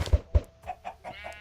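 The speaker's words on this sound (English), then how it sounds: "Stupid chickens." Chickens in the video game Minecraft cluck in short repeated bursts, several quick clucks close by over a faint background, with no one talking.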